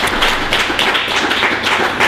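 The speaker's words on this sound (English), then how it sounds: "I think that deserves applause" An audience applauding at an NAACP gathering, a dense, loud, continuous burst of clapping close by throughout.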